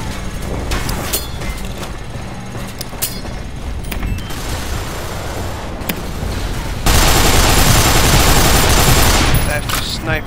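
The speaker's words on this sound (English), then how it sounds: "That's snipers." Sniper fire in the Nuclear Dawn shooter game: loud, punchy cracks and booms scatter through a busy battle soundscape, ending in a dense, sustained roar of noise.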